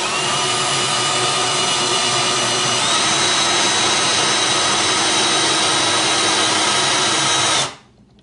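Power drill driving long screws into wall anchors, a loud continuous whirring drone with a steady high whine that runs unbroken for about seven and a half seconds, then cuts off abruptly.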